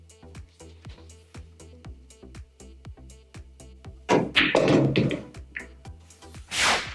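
Cue striking the cue ball on a pool table in a stun shot with one tip of spin, heard as a steady run of sharp, close clicks, one after another, followed by a louder, denser clatter of balls colliding and a final crisp burst.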